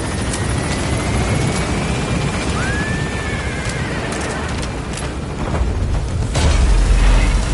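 A helicopter lifts off in the video game Metal Gear Solid V. The rotor roar is loud and steady, with faint game effects layered over it, and it swells louder near the end as it gains altitude.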